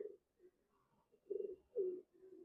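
A pigeon coos in soft, low, throaty bursts, a few separate calls with short pauses, close by and alone.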